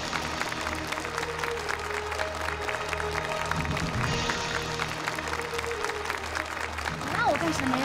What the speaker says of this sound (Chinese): 现在，让我们用最热烈的掌声欢迎童总的到来